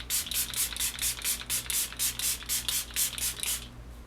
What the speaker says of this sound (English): I'm going to go ahead and just spray real quick with some setting mist